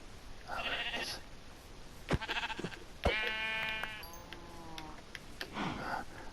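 Sheep bleat several times in the blocky sandbox game Minecraft, with clear wavering calls standing out over a quiet background.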